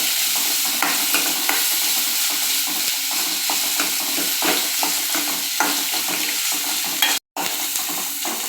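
Curry leaves, dried red chillies and onion sauté in hot oil with garlic for an arai keerai poriyal, giving a steady, close sizzle with stirring scrapes throughout and a brief cut near the end.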